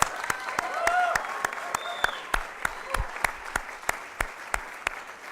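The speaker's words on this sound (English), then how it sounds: "Let's give a round of applause for that." An audience applauds at a NASDAQ opening bell ceremony celebrating a stock market listing, a steady run of sharp, close claps lasting several seconds with no talk.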